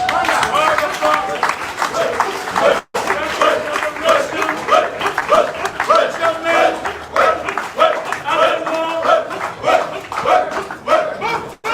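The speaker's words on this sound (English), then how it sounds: "Comrades, round of applause." Crowd applause at an outdoor political party emergency meeting, uneven clapping mixed with loud voices, calls and a barking dog throughout, continuing for several seconds.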